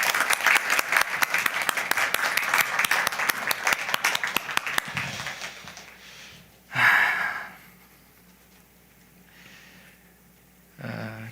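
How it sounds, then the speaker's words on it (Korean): A church congregation gives a big round of encouraging applause during a Sunday service, the dense clapping lasting about five seconds before fading into quiet room noise with a couple of brief louder bursts. "격려의 박수 하겠습니다."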